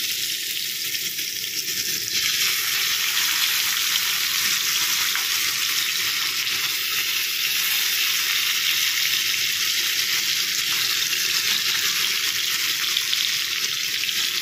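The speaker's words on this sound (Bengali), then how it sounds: "আমি প্রথমে মাছগুলো নুন হলুদ মাখিয়ে রেখেছি, মাছগুলো ভেজে নিই।" Rupchanda fish pieces marinated in salt and turmeric fry in hot oil, giving a steady, loud, continuous sizzle that swells slightly after the first couple of seconds and holds without any talking.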